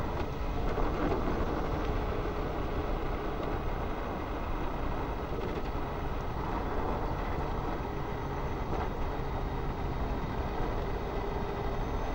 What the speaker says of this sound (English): Going up a bit of an incline, I've got the Super Soco absolutely flat out with the throttle fully